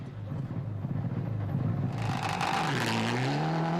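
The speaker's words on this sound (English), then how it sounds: "Rainer Aus in the Mitsubishi Lancer Evo 9" A Mitsubishi Lancer Evo 9 rally car on a Rally Estonia stage approaches, engine note rising loudly and revving hard as it nears, a sustained roar with gear changes, no voices.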